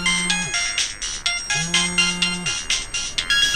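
A telephone ringtone sounds in a radio drama, loud and close, with a repeating pattern of long low tones and bright chiming bursts.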